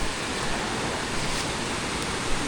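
Nyarai waterfall roaring steadily, a dense, broad rush of falling water that stays loud and unbroken across the whole moment, close by and alone.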